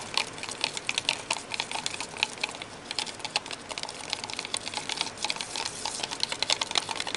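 Popsicle stick stirring fluid acrylic paint in a cup, a steady run of quick, close scraping and tapping strokes with no pauses and no talk.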